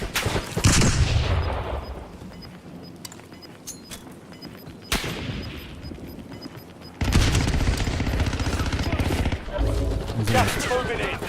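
Gunfire in a Call of Duty Verdansk battle royale match: sharp bursts of automatic weapon fire and single loud shots, a heavy blast near the middle, then sustained rapid firing, close and loud, with game effects layered in.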